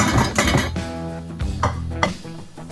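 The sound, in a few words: pan being placed on an induction cooktop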